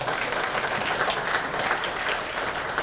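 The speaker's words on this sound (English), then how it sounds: "Can we give a round of applause for all of the directors and chiefs here?" A town hall audience applauds directors and chiefs, a full, even burst of clapping that holds steady throughout without voices.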